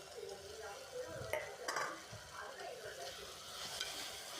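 Tomato, coriander and mint stirred in a pan, faint sizzling under a few spatula scrapes and light clinks against the metal.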